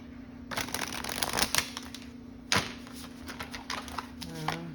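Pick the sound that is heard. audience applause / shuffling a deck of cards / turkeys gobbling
shuffling a deck of cards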